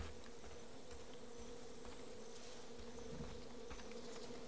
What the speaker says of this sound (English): I hear a shitload of flies buzzing around somewhere.